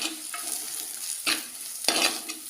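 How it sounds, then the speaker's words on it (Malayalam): Green chillies and curry leaves sauté in hot oil for a sardine curry. A soft, close sizzle is broken by two sharp stirring scrapes of a spoon against the pan. "നന്നായിട്ട് വഴറ്റിയെടുക്കണേ."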